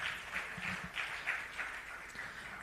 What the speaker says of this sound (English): Let's welcome Harsha to the stage with a round of applause.